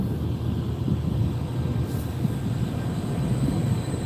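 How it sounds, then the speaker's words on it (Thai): A train rumbles past a rural Thai station on a cold evening, two locomotives coupled together hauling the return service; a steady low rolling roar holds close and loud for the whole stretch without pause. "รถไฟกลับไปแล้วรถไฟ"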